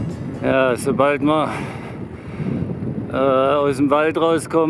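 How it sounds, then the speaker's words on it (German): Wind buffets the microphone on a bicycle ride along the Mur cycle path, a rough low rush between and under someone speaking German. "müssen wir immer ein bisschen gegen den Wind wieder ankämpfen"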